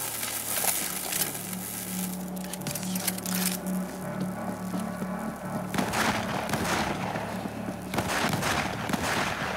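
Gunfire in the video game World War Z Aftermath: scattered shots and cracks over a constant low droning game soundscape, with denser bursts near the end.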